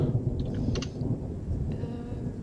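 Steady rain hiss with low rumbling thunder fills the background during a tabletop fantasy game session, a continuous close ambience with a few brief higher chirps and no talk.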